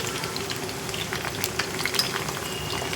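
Salted water trickles into hot oil where moong dal is frying, setting off a busy crackling sizzle with sharp pops and bubbling, steady and close.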